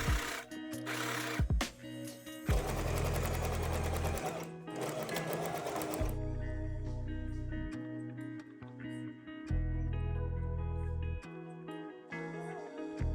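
Sewing machine stitching bias tape onto the inside of trousers, running in bursts of steady mechanical whirring separated by short pauses, close and clear with no voices.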